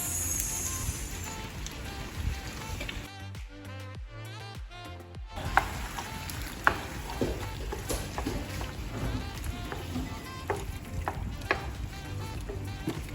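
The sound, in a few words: creamy alfredo sauce added to shrimp in hot pan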